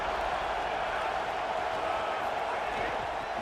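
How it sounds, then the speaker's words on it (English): Constant stadium crowd roar at a game in College Football 27, a broad, even wash of noise holding steady throughout, with faint talk beneath it. "This crowd ready to make its presence known."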